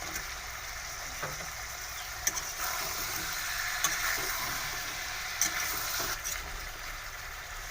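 Pork and potatoes fry in a pan for Assamese pork curry, giving a steady, close sizzle with a bright hiss throughout and a few soft clicks and taps from the pan.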